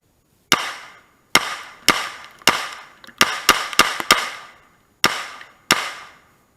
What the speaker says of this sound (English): Ruger Mini-30, 15 rounds, fired the steel case just fine.